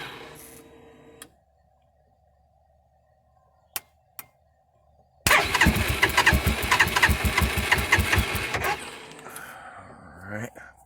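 A stalled UTV engine is cranked by jumping its starter wire to ground, with two short sharp clicks followed by a loud, near, rhythmic cranking lasting about three seconds before it cuts off.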